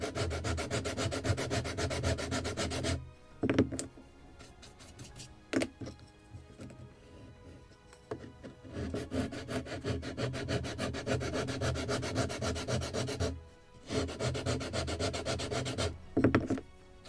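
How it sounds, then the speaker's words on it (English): Textile-backed sandpaper rubs over the wooden planking of a Midwest Muscongus Bay lobster smack model kit in long, steady back-and-forth strokes, close and continuous, broken by short pauses and a few light taps. "So this sandpaper just is paper, and when it is based on the textile, it's really very long last sandpaper."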